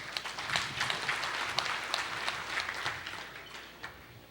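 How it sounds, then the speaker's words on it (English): An audience at a convention claps in a moderate, dense patter of many hands. The applause stays fairly distant and even for a few seconds, with no talk over it. "Let's give them a round of applause"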